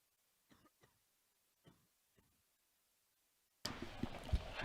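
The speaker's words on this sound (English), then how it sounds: "I just had to cough." Several faint, muffled coughs come in quick pairs at a basketball game broadcast, before a sudden burst of loud crowd and gym noise takes over.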